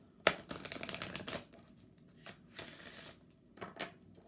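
Goddess Dream Oracle cards by Wendy Miller are shuffled close by in quick riffling bursts, then paused, then shuffled again in a few shorter flurries.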